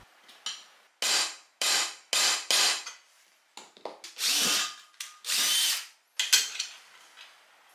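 A power drill bores mounting holes into a lamp frame, bolted together with M4 bolts, in a series of short, loud whirring bursts separated by brief pauses.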